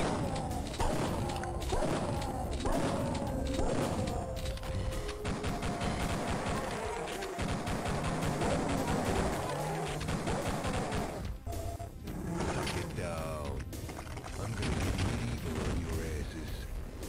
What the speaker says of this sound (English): That explosion only goes one way, by the way.